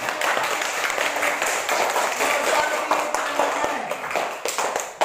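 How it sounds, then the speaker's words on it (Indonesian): A classroom group of pupils claps hands together, a dense, steady patter of many hands close by, with a voice speaking over parts of it. "Tepuk tangan."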